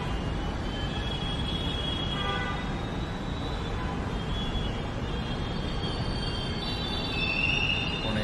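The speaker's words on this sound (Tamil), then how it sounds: "அங்கே பார்த்தீங்கன்னா நம்ம போக வேண்டிய வண்டி தயார் நிலையில் நிற்கிது" Pune metro train standing at an underground platform, a steady broad rumble and hiss of the train and station with faint high squeals from the wheels, continuous and fairly loud, no voices.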